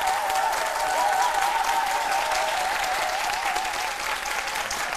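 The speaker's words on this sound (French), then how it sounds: "Elles sont là, on les applaudit très fort." Sustained studio audience applause on a live Ivorian midday TV show, steady and dense for the whole stretch with a faint tonal hum underneath and no talk.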